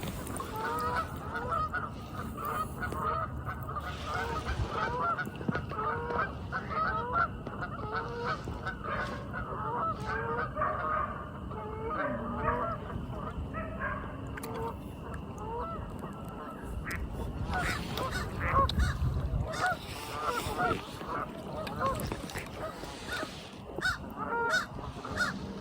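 A large flock of geese honks continuously, a dense chorus of overlapping calls at a steady moderate distance, with water and movement noise underneath.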